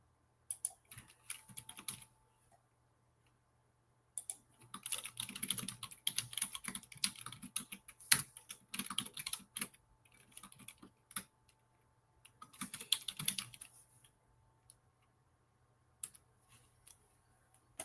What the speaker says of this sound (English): I'm trying to type it in